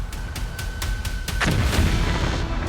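Storm Shadow missile strikes land in a war zone: a run of sharp, evenly spaced cracks gives way to a heavy booming blast that rumbles on, loud and close, with no speech.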